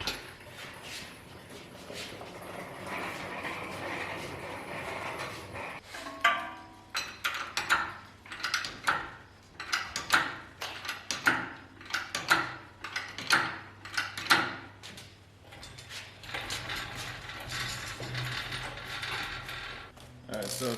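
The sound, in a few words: car engine being turned over by hand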